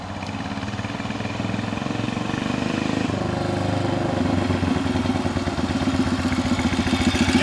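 A Whizzer motorbike engine running close by, a chugging, clattery putter that rises in pace and loudness as the throttle is opened partway through.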